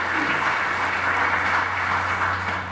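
Audience applause for an event sponsor at an Arkansas Martin Luther King Jr. Commission gathering in Harrison, a steady dense clapping wash holding evenly loud throughout with a low hum underneath.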